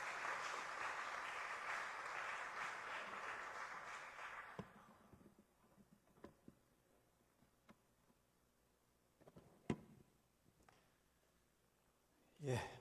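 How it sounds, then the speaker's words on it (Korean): A church congregation at a Saturday revival service claps warmly to welcome a pastor, a dense burst of applause that fades out after a few seconds, leaving scattered clicks and small room noises. "우리 나오실 때에 우리 뜨거운 박수로서 우리 환영하겠습니다"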